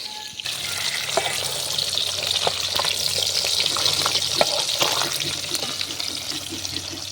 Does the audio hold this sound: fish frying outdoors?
yes